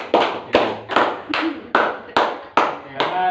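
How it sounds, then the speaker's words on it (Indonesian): Children in an elementary classroom clap for team B during a guessing game, with about eight loud, evenly spaced claps in a steady rhythm, each followed by a short decay. "tepuk tangan untuk tim B"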